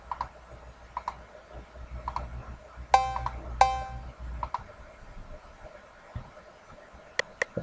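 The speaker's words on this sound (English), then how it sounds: "This is a cowbell." A cowbell sample pitched to a lower note in FL Studio strikes twice, bright ringing hits standing out among sparse clicks and light percussive ticks.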